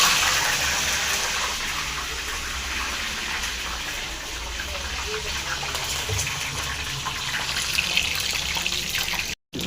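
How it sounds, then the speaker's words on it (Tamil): Steady, dense sizzle of cumin seeds frying in hot oil while tempering for a Tamil herbal thuvaiyal, a continuous crackling hiss close by that barely varies before cutting off abruptly at the end. "ஜீரகம் பொரியிட்டோம்."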